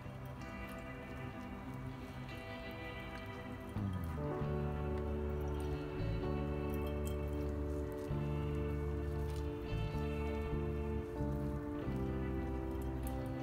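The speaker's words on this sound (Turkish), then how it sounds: "Şimdi suyundan arındıracağım. Ve süzgeçten" Water drains from grated onion pressed in a kitchen strainer, a faint, steady trickling and dripping over a low background hum, with no talk.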